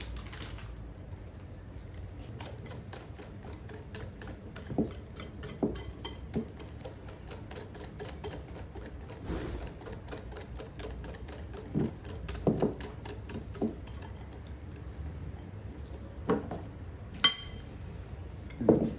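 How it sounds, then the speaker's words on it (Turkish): A whisk beats okra fritter batter with breadcrumbs in a bowl, making rapid, steady clinking and tapping strokes with a few sharper knocks. The sound is close and moderately loud, with no talking. "dolu dolu 3 yemek kaşığı galeta unu ekliyorum. Ve tekrar çırpıyorum."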